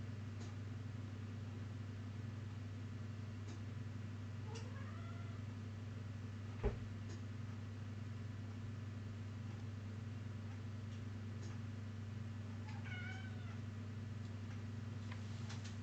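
A cat meows a few times at intervals, short rising calls over a constant low electrical hum, with a sharp tap partway through.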